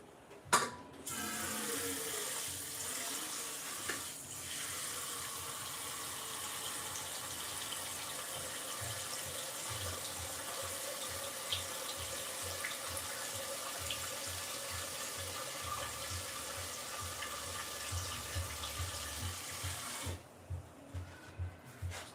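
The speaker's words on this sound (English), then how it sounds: "We're gonna add a lot of water right now." Tap water gushes steadily into a pot for peanut butter soup, a continuous close hiss and splash lasting about twenty seconds before cutting off, with clinks of the pot along the way.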